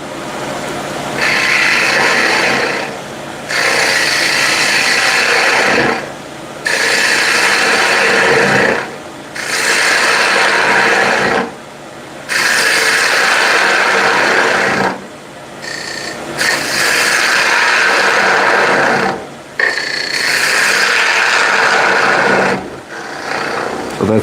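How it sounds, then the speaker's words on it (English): Ball gouge hollowing wood on a lathe, a loud rough scraping roar in repeated passes of a few seconds each, separated by short pauses, close and continuous over the spinning workpiece. "Let's go first with the ball gouge, take away as much as I can, then I'll switch to scraper."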